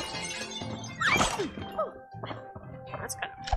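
Glass shattering in the co-op video game It Takes Two, a bright crash with tinkling shards around a second in, followed by scattered smaller clinks and knocks amid game sounds.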